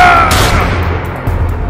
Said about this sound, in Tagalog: enry at tito niya si Uncle Bong at Tito Vic, bigla kaming nakarinig ng dalawang malakas na putok.